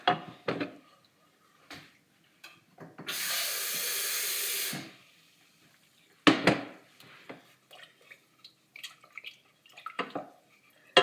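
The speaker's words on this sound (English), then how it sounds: "I'm going to have to add a bit more water to that, to be honest." Water pours steadily for about two seconds into tea brewed with tea bags, flanked by scattered clinks and taps of kitchen handling, close and with no talking.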